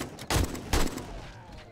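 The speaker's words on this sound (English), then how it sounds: "I can hear the gunshots and their panicked, like, noises" Gunfire in a video game set during an apocalypse: two sharp, loud gunshot bursts in quick succession over a steady background, with no voices.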